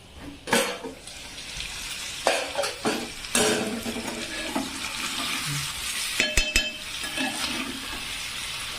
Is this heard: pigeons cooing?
no